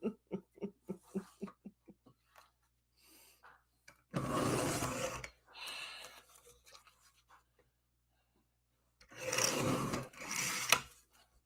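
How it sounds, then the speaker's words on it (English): Paper trimmer slicing card stock, two rasping cutting strokes with quieter scraping between, near and isolated, preceded by short rhythmic taps. "I think I'll cut it with my trimmer"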